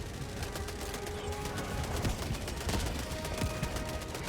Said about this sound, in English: Oh, it's artillery.